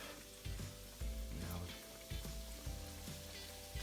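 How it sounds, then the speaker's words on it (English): A batch of four sugared doughnuts sizzles quietly in a deep fryer, a soft steady bubbling hiss broken by a few brief louder thumps and clatters nearby. "we'll do it in batches of 4. Don't want to overfill the fryer"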